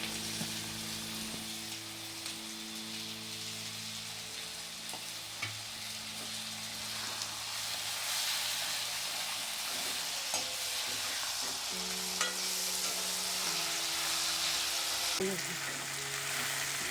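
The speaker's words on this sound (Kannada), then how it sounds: "ಸಣ್ಣದಾಗಿ ಹೆಚ್ಚಿರೋ 2 ಟೊಮೊಟೊವನ್ನು ಫ್ರೈ ಮಾಡಬೇಕು." Two finely chopped tomatoes frying for vegetable masala upma made with vermicelli and semolina, a steady close sizzle with occasional stirring scrapes, with a low steady hum running alongside.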